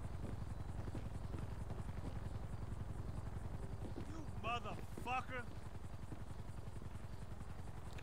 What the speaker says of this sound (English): And then all he has to do is take out that chopper.